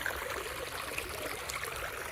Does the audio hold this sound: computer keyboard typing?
no